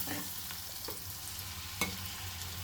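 Drumsticks fry in hot oil as tomatoes go in, a soft, low sizzle with a faint steady hiss and a single brief knock partway through.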